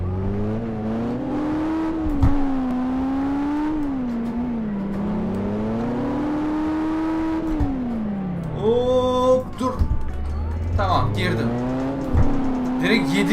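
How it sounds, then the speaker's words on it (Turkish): A 2017 Ford Focus RS engine revving hard on a motorway, a loud, close engine note rising and falling through repeated accelerations, with people talking over it inside the car. "Araba sürekli bağırıyor."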